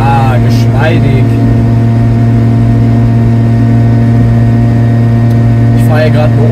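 A Piaggio Ape 50 three-wheeler engine drones steadily at cruising speed on a detour road, a loud, continuous buzzing hum with someone talking over it.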